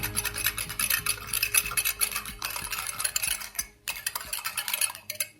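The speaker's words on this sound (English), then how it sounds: "we want to whisk it to get it to start blooming" A yeast mixture for bread whisked briskly in a bowl, with rapid, close metallic scraping and clinking in quick bursts and a couple of short pauses.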